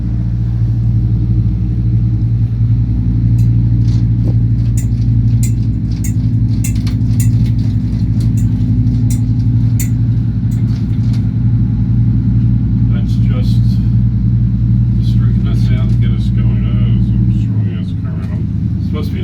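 A boat's outboard engine holds a steady, loud drone while pushing against a strong current in a no-wake zone, with a constant low rumble throughout.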